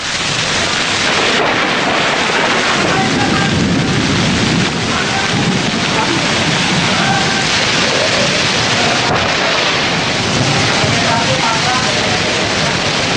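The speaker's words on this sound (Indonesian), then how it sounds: "hujan deras mengguyur wilayah ibu kota Jumat sore" Heavy rain pours steadily onto a flooded Jakarta street, a loud, dense wash of downpour that stays unbroken from start to finish with no voices.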